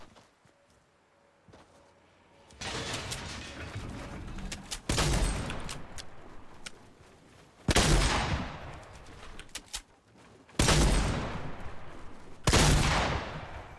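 SCAR assault rifle fire in the video game Fortnite, coming in loud, dense bursts of rapid shots separated by short pauses, with faint quieter shots before the first burst.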